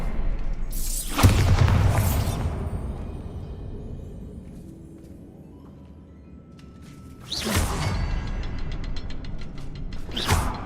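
A Bombarda blasting spell in Hogwarts Legacy goes off twice: each is a loud, sudden boom with a rushing whoosh and rumbling debris that slowly fades, separated by a quieter stretch of faint mechanical creaks.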